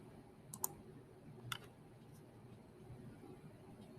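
Two quiet computer mouse clicks on an export button, sharp and brief about a second apart, over a faint steady background hum.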